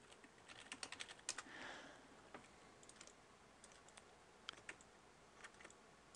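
A computer keyboard clicks in quiet, irregular bursts of key taps during a tutorial session, close and faint with no talking.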